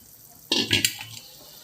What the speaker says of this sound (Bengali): জলটা আমার ফুটে এসেছে, এবার দিয়ে দেবো ভেজে রাখা মাছ